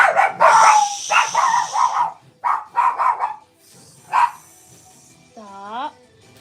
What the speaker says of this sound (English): Sorry, dogs are going crazy.